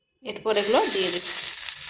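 Semolina pieces fry in a little oil on a tawa over low heat, a sudden bright sizzle bursting in and holding steady and close, with a faint tonal squeal early on.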